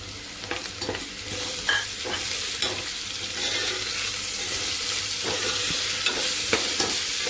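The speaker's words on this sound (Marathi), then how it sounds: "आलं लसूण पण आपण चांगलं परतूया" Ginger-garlic paste sautéing with onion in a pan for chicken curry, a steady loud sizzle with repeated scraping stirs throughout, no voices.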